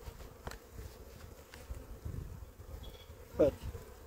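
Honeybees in an open hive during an early-March inspection give off a faint, steady buzz with a few louder passes near the beekeeper, without talk.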